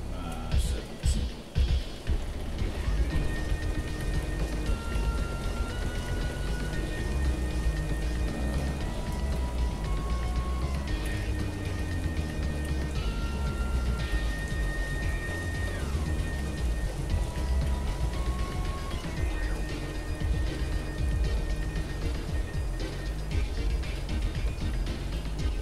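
Steady rain falls outside throughout, a dense, even hiss of drops on surfaces that stays loud and constant, with faint musical tones drifting underneath.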